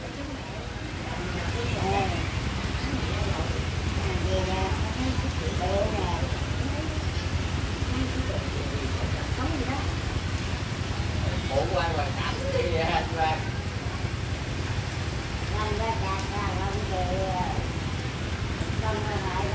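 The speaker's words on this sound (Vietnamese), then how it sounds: "ngoại giờ quá trời mưa rồi." Heavy rain pours steadily at a Vietnamese family home, a dense hiss of drops on surfaces that lasts throughout, with people talking over it.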